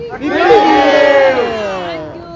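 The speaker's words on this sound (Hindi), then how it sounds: "सबसे पहले आपको चिल्लाना है" An outdoor group on Juhu Beach lets out one loud, sustained shout together, a unified roar of many voices that swells and then fades out over about two seconds.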